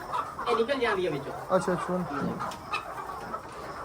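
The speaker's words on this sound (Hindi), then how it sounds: "छोटी मुर्गी है निकल जाती है।" Chickens clucking on a poultry farm, a few close, rhythmic clucks mixed with people talking nearby.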